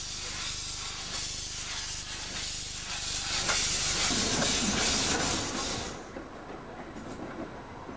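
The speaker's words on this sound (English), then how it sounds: "there was a bit of shunting going on" Train shunting at Washford station, with loud broadband steam hissing and rumbling that swells midway and then eases, the hiss continuing over a lower mechanical rumble.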